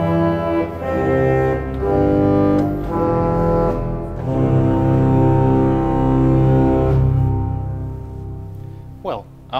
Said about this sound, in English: if we combine all of these stops, we get the pedal tutti